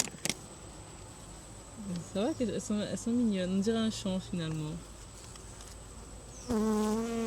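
Honey bees buzz steadily around an open beehive on a farm, a close, continuous drone beneath people talking.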